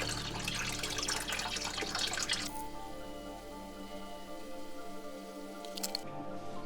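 Water is poured into an aquarium with a betta fish and carpet plants to top it up: a loud rushing splash for a couple of seconds, then quieter trickling and dripping.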